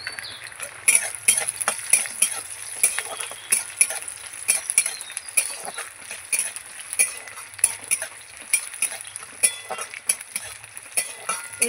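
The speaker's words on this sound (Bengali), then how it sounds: "এবার এর মধ্যে রসুনগুলো দিয়ে দেবো" Garlic stirred in a hot frying pan, a soft continuous sizzle broken by repeated rhythmic spatula scrapes and taps on the pan, close by with no talking.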